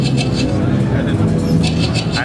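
A loud, churning texture from a cabassa convolved with a timpani: low rumbling resonance with rhythmic bursts of rattling, shaker-like hiss pulsing on top, continuous and dense.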